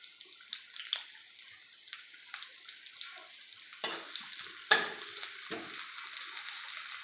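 Cumin seeds and onions frying in hot oil in a home kitchen while making potato kachori, a steady soft crackle with a few sharper spits and stirring clatters, close and alone without talk.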